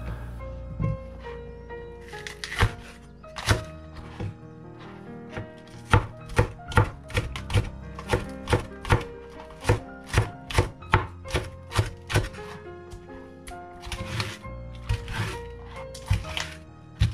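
Fresh garden green onions are cut with a knife on a board: scattered chops at first, then a fast, regular run of crisp, close strikes, tapering off again, with light music behind.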